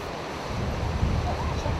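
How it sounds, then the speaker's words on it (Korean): Changbai Waterfall, which drops straight for 36 metres, gives a steady, loud broadband roar of falling water that stays constant throughout. "장백폭포는 꼭대기에서 36m 아래까지는 곧게 쏟아져 내리며 200m 멀리 떨어진 곳에서도 폭포의 소리를 들을 수 있다고 한다."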